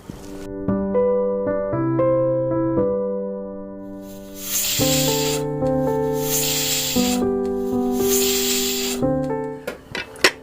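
A pressure cooker full of dal lets off loud hissing steam whistles in two long bursts, with a short sputter near the end, sounding over a melodic instrumental tune.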